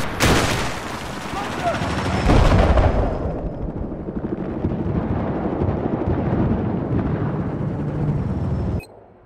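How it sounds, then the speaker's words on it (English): Machine gun fire in the Battlefield 4 video game, a loud sustained burst of rapid shots with dense battle noise that continues at a lower level before cutting off abruptly. "Looks like we got a hostile machine gunner in the current position."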